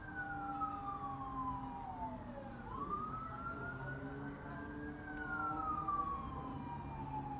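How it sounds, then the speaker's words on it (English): Siren of a passing emergency vehicle, ambulance, fire truck or police, wailing up and down in long sweeping cycles at moderate distance, heard faintly indoors with a low background hum. "I think that's an ambulance or a fire truck. I'm not sure. Or a police."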